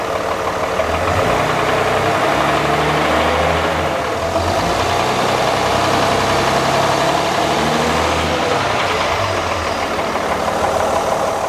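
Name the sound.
Cummins 5.9 diesel truck engine running, revved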